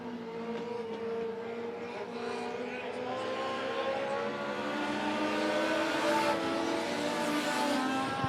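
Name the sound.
late model race cars racing at Monett Motor Speedway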